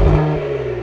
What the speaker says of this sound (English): But that launch control sound.